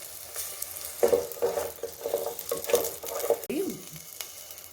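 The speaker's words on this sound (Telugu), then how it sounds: "కొన్ని ఒక 7-8 వెల్లుల్లి రెబ్బలు వీటితో పాటే ఫ్రై చేసుకోవాలి." Garlic cloves and six green chillies sizzle in hot oil in a pan for a Maharashtra-style mirchi thecha, a steady frying crackle with soft stirring scrapes, close and alone.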